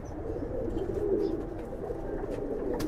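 Caged female pigeons cooing softly in a loft, low rolling coos repeating steadily against a faint background hum, with no talking.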